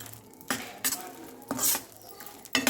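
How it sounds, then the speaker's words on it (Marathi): A spoon stirs ground cashew and almond powder into fried edible gum in ghee, giving four sharp metallic scrapes and clinks against the pan at irregular intervals, close and fairly loud. "आता याच्यामध्ये टाकून घेऊ आपण वाटून घेतलेली काजू बदामची पावडर तर याला आता आपण मस्त मिक्स करून घेऊ"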